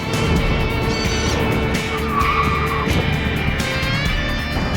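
A car driving in reverse with tires skidding and squealing on pavement, a steady loud engine roar under tonal screeching that rises and falls throughout, captured outdoors during a test run.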